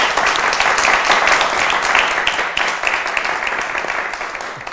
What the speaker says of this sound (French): Et merci à vous, public. On va s'applaudir très fort.